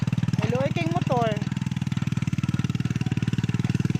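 A motorcycle engine runs steadily with a close, rhythmic low putter that holds an even pulse throughout, with a person talking over it early on.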